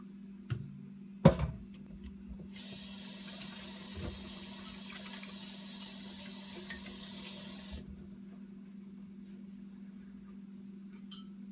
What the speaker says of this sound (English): I'm gonna wash my hands and we'll get started in a couple of minutes.